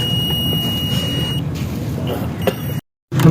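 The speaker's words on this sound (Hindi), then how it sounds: "ये बीप दे रहे हैं।" A multimeter continuity tester beeps steadily while probing the MAP sensor wiring of a 2022 Suzuki Alto, a sustained close electronic tone running for nearly three seconds before cutting off.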